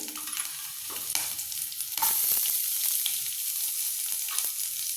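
Curry leaves and a green chili fry in a pan, with a steady sizzle, intermittent spatula scrapes and clinks, and a louder hiss from about two seconds onward.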